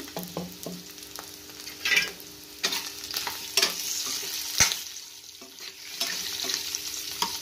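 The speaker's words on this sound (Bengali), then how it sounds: "একটা নাড়াচাড়া করে নেব।" A spoon stirs potato curry with crushed tomato and a little turmeric in a pan, giving soft scraping strokes and light sizzling, with several sharper clacks of the utensil against the pot spaced through the stretch.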